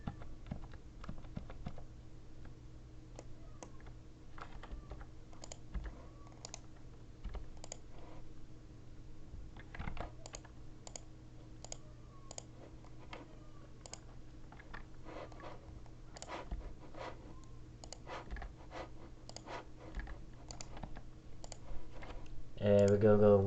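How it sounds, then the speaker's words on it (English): Mechanical keyboard typing mixed with computer mouse clicks in a home setting, a steady run of quick irregular clacks over a low hum throughout, with a brief louder burst at the end. "I like the sound of your mouse and keyboard"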